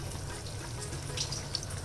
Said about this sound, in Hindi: मैं पानी डालने जा रही हूँ और कुकर बंद करने जा रही हूँ।